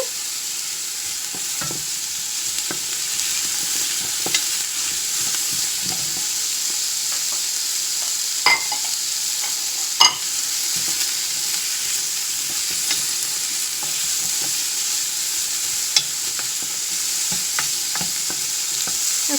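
Onion and ginger fry in a glossy oiled pan with a loud, constant sizzle, broken by occasional scrapes and taps of a utensil stirring, no talking.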